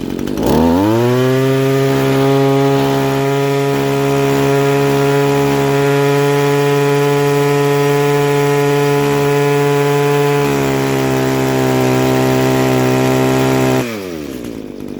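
An Echo SRM2100 string trimmer engine runs at high revs, slightly breaking up, a loud steady two-stroke drone with a strong harmonic whine that shifts pitch partway through and cuts off near the end; no talking.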